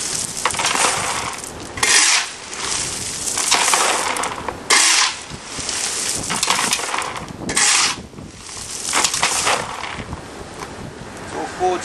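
A forged steel Bulldog garden shovel scrapes and crunches through loose stones in repeated gritty strokes, each push a harsh rasping scrape. Someone talks between and over the strokes.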